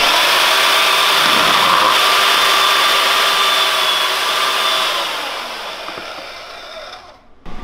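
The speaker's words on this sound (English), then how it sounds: "You gotta love a bandsaw." A bandsaw cuts through metal during a street-legal mini bike build, a loud steady whining hum with a bright edge that holds for several seconds, then tapers and fades as the cut finishes near the end.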